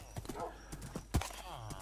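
Minecraft horse sounds: a few quick hoof clip-clops and a short whinny, fairly quiet and close, heard on their own.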